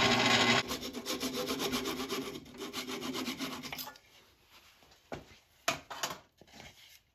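Sanding a wooden acorn birdhouse on a lathe, a loud continuous rasping rub for about four seconds, then quieter scattered scrapes and a few sharp knocks.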